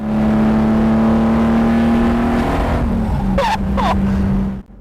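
Lamborghini Jarama on the move, its engine holding a loud, steady droning note before the pitch shifts and drops, with two brief sharp bursts near the end as the sound cuts off.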